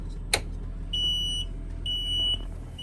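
A high electronic bus door-open warning buzzer sounds twice in sustained half-second tones, preceded by a short click of the door switch, against a low steady engine hum.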